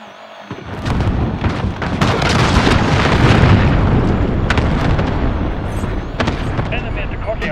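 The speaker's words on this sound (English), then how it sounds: "Enemy cruise missile." An enemy cruise missile strikes in Modern Warfare 2019, bursting into a loud, heavy rumbling explosion that swells after a quiet opening and roars for several seconds, with scattered debris cracks and a short in-game voice callout.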